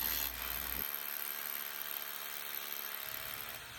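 A hammer drill fitted with a 3/16 inch bit bores into concrete, giving a steady, buzzing grind that holds for a few seconds at moderate loudness.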